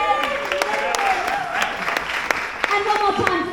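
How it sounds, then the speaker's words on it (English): Crowd applause at a jazz festival concert, scattered claps and cheering in the room with a voice speaking over it. "So let's give her a round of applause."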